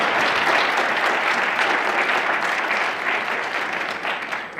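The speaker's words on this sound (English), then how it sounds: "I'd like to give a big round of applause for that group" Audience at a community town hall meeting gives a big, steady round of applause, dense continuous clapping that holds strongly and eases off slightly toward the end.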